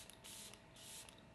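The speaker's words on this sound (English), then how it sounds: "A final spritz of the Benefit setting spray." Benefit makeup setting spray, several quick hissing spritzes in a short burst-pause rhythm, close but soft, with no talking.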